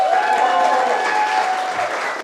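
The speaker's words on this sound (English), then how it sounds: "Give yourselves a big round of applause." Audience applauding at a Rush Athletics community gathering, a short burst of crowd clapping with cheering voices over it, loud and close, fading out at the end.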